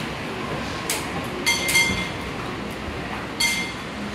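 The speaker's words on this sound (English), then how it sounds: "sorry about that dinging noise" Bright dinging chimes from donations arriving at a thrift store, three or four short rings spaced over a steady background murmur of the shop.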